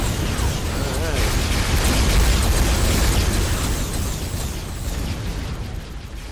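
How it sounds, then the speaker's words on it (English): Explosions in the space strategy game Sins of a Solar Empire with the Star Trek Armada III mod, a dense, loud rumbling barrage of booms and bursts that swells in the middle and fades slightly toward the end, with voices talking over it. "we've had some explosions"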